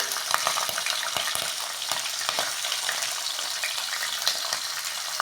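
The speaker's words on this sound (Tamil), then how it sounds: "இப்போ பச்சை மிளகாய் ஆட் பண்ணிக்கலாம்" Green chilies frying in hot oil for village-style puffed rice upma, a dense steady crackle and sizzle with sharp pops throughout, close and fairly loud, with no talking.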